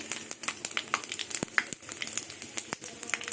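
Bay leaves, dry red chilies and panch phoron spices hit hot oil in a pan for a Bengali mixed vegetable curry, crackling and popping in a busy, close sizzle with sharp snaps scattered throughout.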